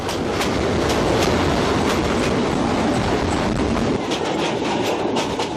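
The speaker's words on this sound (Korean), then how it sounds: "기차는 다시 거친 숨소리를 내며 달립니다" A train rumbles steadily along the rails in Myanmar's Shan region with a rhythmic clickety-clack of wheels, loud and close, with no voices.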